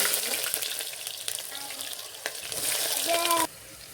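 Onions fry to a deep red in oil alongside cardamom, bay leaf, dried chillies, cloves and cinnamon for mutton kosha, a steady hiss of hot oil with a few stirring clicks that stops abruptly near the end.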